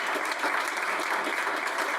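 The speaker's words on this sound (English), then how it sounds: "Can we just give a round of applause to the panelists?" An audience applauds panelists at the close of a panel discussion, a dense, even wash of many hands clapping steadily for two seconds with no voices over it.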